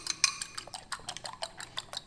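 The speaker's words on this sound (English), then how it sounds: "2 eggs whisked. Use a fork, not a whisk." Two eggs whisked with a fork in a bowl, a quick, fairly regular series of light clicking taps, close and soft, with no talking.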